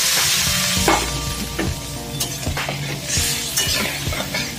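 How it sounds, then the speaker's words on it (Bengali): Water poured into fried spice paste with chilli powder for a fish curry, a loud sizzle and bubbling hiss with spoon scrapes and clinks against the pan. "এর মধ্যে দিয়ে দিলাম জল"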